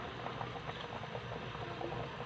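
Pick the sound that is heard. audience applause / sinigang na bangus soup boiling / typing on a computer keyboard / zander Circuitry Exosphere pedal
sinigang na bangus soup boiling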